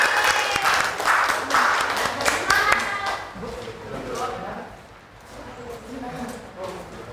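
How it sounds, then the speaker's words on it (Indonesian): Applause breaks out for a student group in a classroom, a mix of quick hand claps and crowd noise that starts loud and busy, thins toward the middle and keeps going, with voices mingling in. "berikan tepuk tangan untuk kelompok jeruk"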